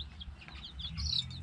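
Tiny, fluffy baby chicks less than a week old, out on the ground below the chicken house, give a few brief, thin high peeps over low background rumble, with no talking.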